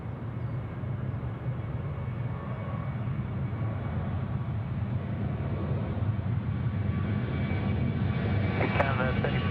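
An airplane takes off at Sydney Airport, its engine roar building steadily and broadly from a distance, with air traffic control radio chatter over it.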